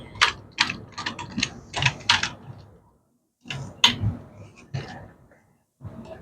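Sewing machine reverse stitching through isinglass (clear vinyl) for a three-season porch, rapid mechanical clattering bursts of needle strokes separated by short pauses, close and fairly loud.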